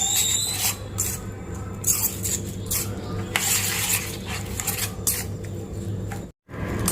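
Sliced onion and curry leaves stirred into oil, with continuous scraping and rubbing of a utensil against a metal pot, close and fairly loud, broken by a brief silent gap near the end.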